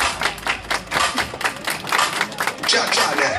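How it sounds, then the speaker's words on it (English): People clap their hands in a rapid, steady stream of sharp claps to the Cha Cha Slide, the crowd clapping loud and close with some voices mixed in. "Let me hear you clap your hands."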